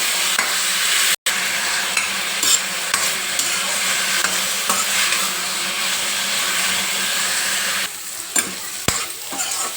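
Nalleru (adamant creeper) stems fry in a pan with a steady, loud hiss and sizzle, broken by the scrape of stirring and a brief silent gap near the start, with no talk.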